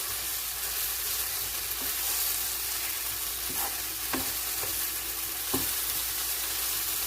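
Meat searing in a frying pan, a constant dense sizzle with a few soft scraping knocks from the pan or utensil, no talk.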